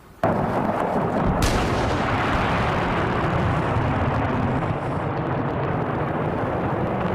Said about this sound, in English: But I'll show you a video from earlier when that big explosion did happen.